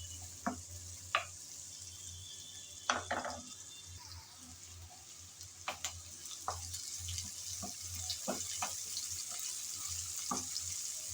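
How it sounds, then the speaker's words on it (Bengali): Chopped onions fry lightly in oil as they are stirred, a faint sizzle beneath intermittent sharp knocks and scrapes of a spoon in the pan, with no talking. "পেঁয়াজ কুচি দিয়ে নেড়ে ছেড়ে ভেজে নিতে হবে হালকা করে।"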